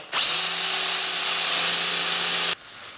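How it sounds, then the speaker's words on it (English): A power drill with a small bit bores a pilot hole while fitting a Pletscher twin-legged bicycle kickstand, one steady high-pitched whine for about two and a half seconds that stops abruptly, close and loud. "So what we're going to do is we're going to step drill the hole. We're going to start with a small drill bit."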